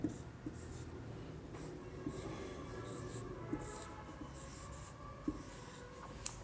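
Steady scratching of writing a fraction on a classroom board, a continuous rough scraping with occasional taps, close and moderately loud without speech.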